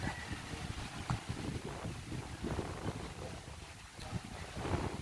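Steady wind rushing through the trees at a Thai forest temple, a broad continuous roar with gusty swells and a faint low rumble, no voices in the clip.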